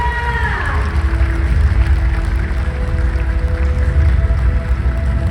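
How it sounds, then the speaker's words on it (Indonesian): A crowd applauds, dense clapping mixed with murmuring voices and a few whistles or cheers, loud and sustained throughout. "Boleh berikan tepuk tangan yang paling meriah."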